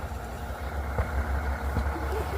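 An FDNY fire engine idles on a closed city street after a manhole explosion, a steady low engine rumble holding at a fairly close, even level for a couple of seconds with faint background noise.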